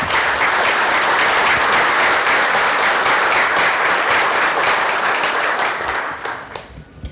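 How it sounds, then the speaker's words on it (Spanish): Loud, sustained applause from an audience at a corporate managers' meeting in La Libertad, a dense wash of clapping that holds steady for several seconds before thinning out near the end. "Un aplauso para ellos."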